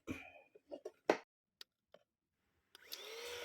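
Cordless rechargeable 3-in-1 vacuum cleaner starting up near the end after a few clicks and handling knocks, its motor whine rising and holding steady.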